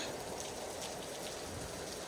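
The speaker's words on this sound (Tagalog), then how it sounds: "umuulan, umuulan dito sa amin" Steady rain falling on a farm, a dense, even hiss of drops close by with no pauses and no voices over it.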